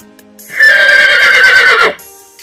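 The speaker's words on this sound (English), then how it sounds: "H is for horse." A single loud, close horse neigh rings out for about a second and a half, a bright whinny that wavers and falls off at the end against near silence.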